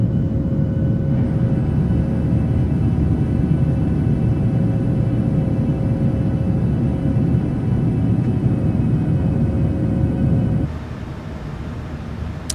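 Steady, loud engine rumble of a PMDG 737-800 airliner cruising in Microsoft Flight Simulator 2020, a continuous drone with faint tonal whine that drops slightly in level near the end.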